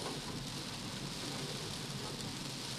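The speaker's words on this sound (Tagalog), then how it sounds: "Unang ulan sa Mayo." Steady rain of the first May downpour falls continuously, a dense even hiss of drops on surfaces close by, with no voices.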